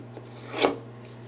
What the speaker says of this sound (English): due to the grinding action from the carbide and the knife blade